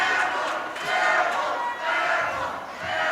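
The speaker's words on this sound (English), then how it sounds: "The crowd's going to let him hear that one." Crowd at a Region 7A quarterfinal high school basketball game between Todd County and Winner roaring after a missed three-point shot, loud surging waves of shouting and jeering.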